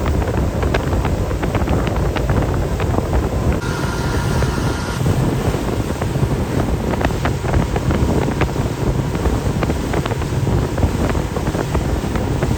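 A tour boat motors across open sea toward the Ballestas Islands off Paracas, Peru, its steady engine drone mixed with heavy wind buffeting and splashing water, loud and continuous throughout.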